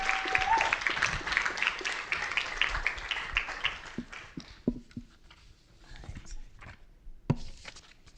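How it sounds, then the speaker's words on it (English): Audience applause at a school board meeting, a dense burst of clapping that fills the first few seconds and then thins into scattered, fading claps with a few isolated late claps. "Let's give her a round of applause."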